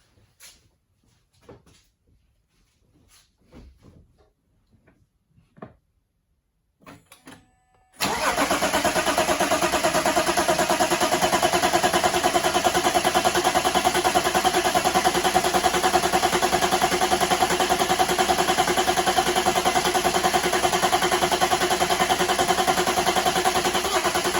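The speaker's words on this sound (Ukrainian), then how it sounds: "прокручуємо разок, підключаємо форсунки і пробуємо запускати" A BMW E60 with the 3.0-litre M57 diesel engine, just back together after a timing chain replacement, is cranked with faint clicks, then catches and settles into a loud, steady, close idle that runs on alone.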